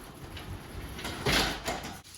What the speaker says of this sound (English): Now we can go ahead and close the door.